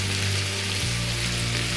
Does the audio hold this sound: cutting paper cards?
no